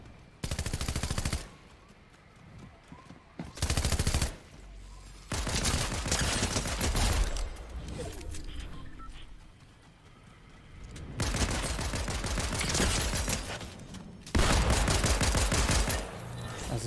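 Repeated bursts of automatic gunfire from enemies in the Fortnite video game, loud and close, arriving in several dense volleys separated by quieter gaps with faint background game noise.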